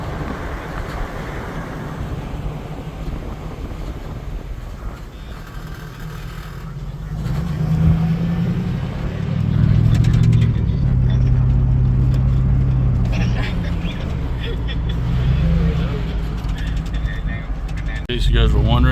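A 2001 Chevrolet Silverado LS pickup truck being driven, with a low engine drone and road rumble that swells and holds, loud and close from inside the cab.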